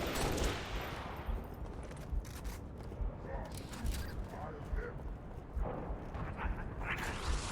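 Rapid bursts of gunfire from Halo's alien weapons in a firefight against Brutes, with a dense steady crackle of shots layered over battle noise and occasional speech.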